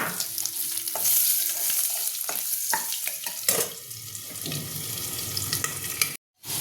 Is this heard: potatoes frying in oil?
yes